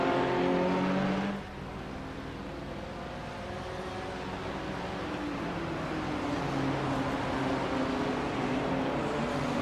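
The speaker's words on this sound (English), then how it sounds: "That Ferrari back within the slipstream of the BMW. Can he get the run down this long straight?" GT3 race cars, a Ferrari chasing a BMW, race at Mount Panorama with a sustained engine drone; one car's roar fades early on and a steady, distant engine hum follows.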